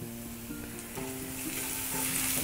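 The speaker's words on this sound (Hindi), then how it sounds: "इन सबको हम हल्का सा फ्राई करेंगे थोड़ी देर, बहुत ज़्यादा नहीं।" Finely chopped ginger, garlic and green chili fry lightly in a pan for a dry rajma dish, a soft, quiet sizzle under faint background tones, with no talking.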